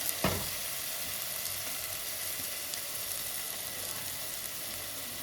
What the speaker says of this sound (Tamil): இந்த இஞ்சி பூண்டோட பச்சை ஸ்மெல் போகணும், அதெல்லாம் லைட்டாக கொஞ்சம் ஃப்ரை பண்ணிடுங்க